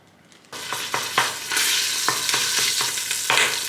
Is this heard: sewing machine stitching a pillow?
no